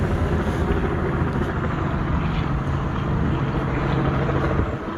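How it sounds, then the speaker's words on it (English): A helicopter passes overhead on Elm Street in Dallas near a railroad overpass, a steady loud broadband rumble and whir that holds for the whole stretch with a slight swell and a dip at the end. "There's a helicopter going over the top of me."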